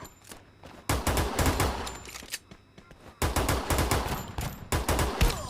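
Bursts of rapid gunfire in the battle-royale video game Free Fire, several loud volleys separated by short quieter gaps, with faint background game sounds between them.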